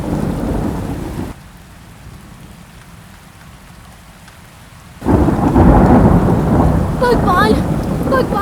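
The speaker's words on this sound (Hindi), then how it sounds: "आज इतनी बिजलियां क्यों कड़क रहा है?" Heavy rain pours down in a thunderstorm with deep, loud rumbles of thunder, fading to a quieter drizzle for a few seconds before a fresh thunderclap and heavy downpour return.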